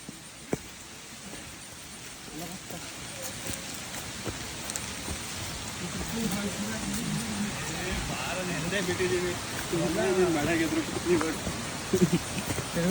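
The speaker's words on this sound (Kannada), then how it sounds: "ಅಲ್ಲ ಬಂತಲ್ಲ ಮಳೆ" Steady rain falls and patters on surfaces on a trek toward a waterfall, a continuous hiss that slowly grows a little louder, with a low vehicle rumble underneath.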